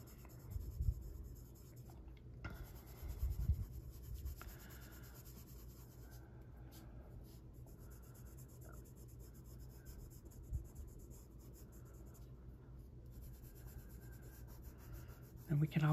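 Luminance colored pencils rub lightly over white paper while a dark skin tone is shaded in. The soft scratchy strokes are close and quiet, broken by short pauses, and there is a little talk.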